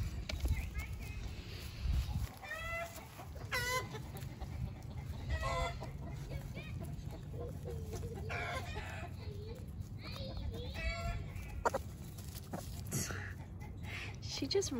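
Chickens cluck and squawk in a coop, frequent short excited calls scattered over a low steady hum, close by, with a person talking softly at times.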